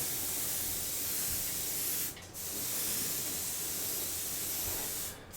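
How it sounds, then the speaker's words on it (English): Airbrush spraying paint onto the hull of a 1/48 scale Trumpeter U-boat U552 model, a loud continuous close hiss broken by two brief pauses. "Because I'm only spraying from one direction, I reckon that the paint has only caught the tops on this side"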